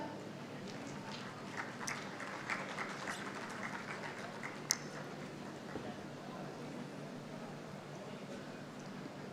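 A conference audience at an international gathering on world religions applauds in a steady, dense wash of clapping that holds for several seconds, with one sharper clap standing out midway.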